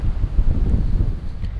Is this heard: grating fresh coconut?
no